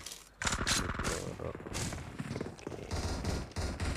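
Rapid bursts of M4 rifle fire in PUBG Mobile crack loudly through the clip, starting after a short pause, with a brief spoken word over the shooting.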